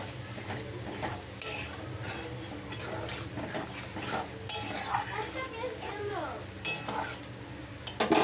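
Water poured into fried, cooked-down spice paste in a pan for a sardine curry, with stirring and scraping, clinks of utensil against pot and a low sizzle, no talking.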